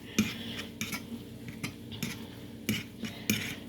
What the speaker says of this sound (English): I gotta move the pan.